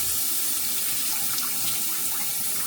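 Tap water pours steadily into a sink for a rinse, a continuous bright hiss and splash at close range with no talking.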